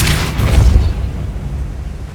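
The Depulso spell is cast in the video game Hogwarts Legacy, a single heavy whooshing boom that hits loud at once and then fades away over about two seconds.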